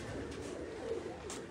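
Champion pigeons kept on a rooftop loft coo softly at a distance, a faint low murmur of overlapping calls spread across the whole moment without any talking.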